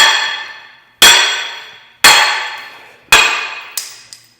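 Three sharp, ringing metallic strikes at steady intervals, each decaying slowly, followed by two lighter taps. Loud and close, with no talking.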